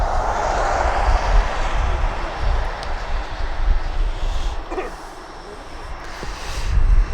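A West Atlantic Cargo Airlines aircraft approaching East Midlands Airport gives a broad, steady engine rumble, moderately loud at a distance, swelling and easing with wind-like texture and brief faint clicks.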